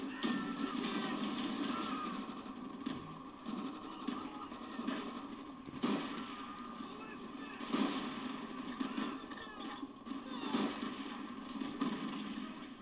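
A trench gun shotgun firing in Call of Duty World at War, several heavy blasts spaced a couple of seconds apart over continuous battlefield noise, with a voice talking throughout.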